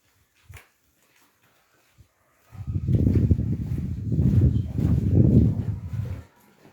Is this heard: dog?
yes